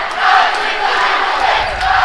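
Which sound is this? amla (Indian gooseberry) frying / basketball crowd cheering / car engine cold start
basketball crowd cheering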